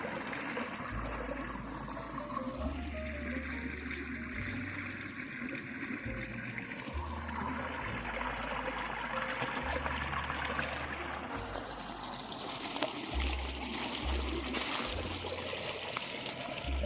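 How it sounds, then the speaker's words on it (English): Water running through a hand-dug garden stream in Portugal, a faint continuous trickle heard from close by, with no talking and a low steady hum underneath. "It's a good job I dug this stream out. It's flowing really well now."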